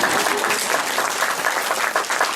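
Audience at a spiritual talk in the San Francisco Bay Area clapping, with dense, sustained applause from a crowd filling the room, close and loud throughout.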